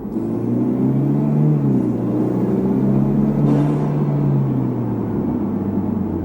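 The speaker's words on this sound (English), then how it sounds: "Gotta love that turbo noise though, and that blow-off valve sound is just delicious" Inside a 2013 Hyundai Genesis Coupe 2.0T Premium, the turbocharged four-cylinder drones steadily under load, its pitch rising and falling with the revs, and a brief airy burst midway fits a blow-off valve venting.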